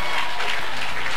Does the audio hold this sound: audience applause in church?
yes